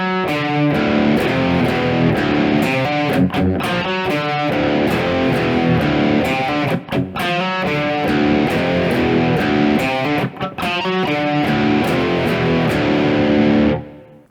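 Distorted electric guitar plays a riff, heavy and loud, with a driving repeated rhythm and brief choppy gaps for about fourteen seconds before it stops. No voices are heard.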